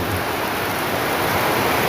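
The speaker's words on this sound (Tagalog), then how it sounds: "walang tigil ang ulan" Dense, steady roar of heavy rain pouring down, loud and unbroken throughout with no voices.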